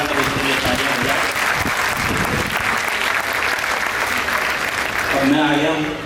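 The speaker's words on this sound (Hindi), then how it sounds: "मैं चाहता हूँ एक बार हम सब लोग दोनों हाथों को उठाकर उसके लिए तालियां बजाएं।" Sustained dense applause from an audience at a comedy and poetry night, loud and steady throughout, with a voice beginning to speak over it near the end.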